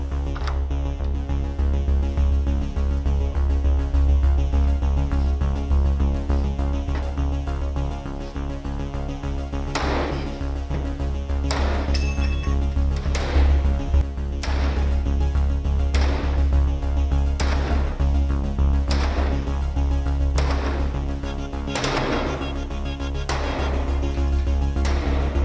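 A sledgehammer batters a classroom door secured with a Nightlock lockdown device, landing a series of heavy, evenly spaced impacts in the second half over a loud, constant low rumble.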